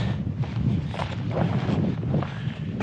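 Gusty wind at a tent campsite in Chile, buffeting the microphone in uneven low rushes that swell and fade, with flapping and rustling close by.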